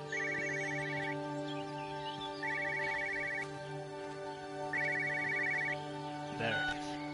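A telephone in the game Everybody's Gone to the Rapture rings in three evenly spaced electronic trilling bursts over a low ambient hum, followed by a brief clunk near the end.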